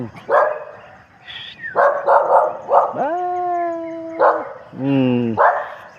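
Dogs barking and howling outdoors in a residential neighborhood: bursts of barks followed by long, drawn-out howls, close and loud, with more than one dog joining in and no talk over them.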